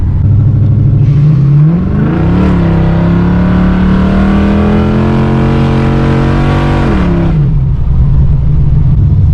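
A 383 stroker small-block Chevy in a VE Holden Commodore revs up through its exhaust, climbing to a sustained high note for several seconds before dropping back to a loud, lumpy idle, recorded close up.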